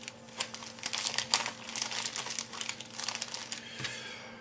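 A resealable plastic bag holding rubber model-kit parts for an ICM ZiL-131 emergency truck crinkles and rustles continuously up close, soft and busy, with no voices.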